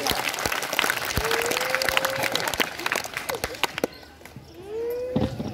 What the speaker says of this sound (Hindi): एक बार इन छह समूह के प्रतिभागियों के लिए जोरदार ढंग से ताली